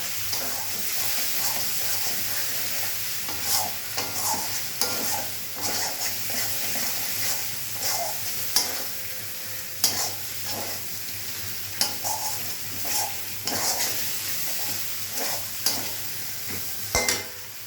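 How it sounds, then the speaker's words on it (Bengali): Spice masala in oil sizzles steadily in a pan while being stir-fried for shol fish curry, with repeated spatula scrapes and taps over a constant frying hiss and no talking. "ভালো করে মশলা কষিয়ে নিই দেখুন আমার মশলা কষানো হয়ে গেছে"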